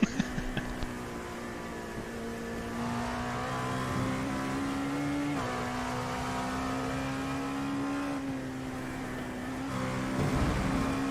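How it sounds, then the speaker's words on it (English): Race car engine note in the iRacing game at Le Mans, a sustained droning tone that dips and shifts as the car decelerates over a curb, with a faint rattle and a rise in revs near the end. "I like that sound when you decelerate on the curb."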